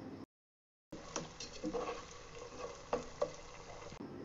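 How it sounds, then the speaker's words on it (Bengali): Garlic, cumin and ginger paste frying in oil in a pan for chicken roast, a soft steady sizzle with scattered stirring scrapes and small pops after a brief silent gap. "এবার সবগুলো বাটা মশলা তেলের সাথে ভালোভাবে ভেজে নিব"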